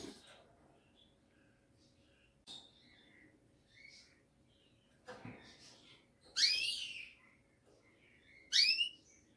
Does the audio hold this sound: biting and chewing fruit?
no